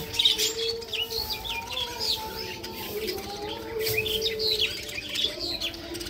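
Several small birds chirp and tweet continuously nearby, with soft cooing underneath and a faint steady hum in the background.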